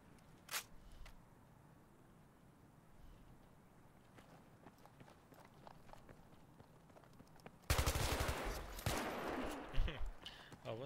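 M417 rifle fire in a video game breaks out as a loud, dense burst of rapid shots late on, after quieter footsteps and scattered earlier shots, with faint voices around.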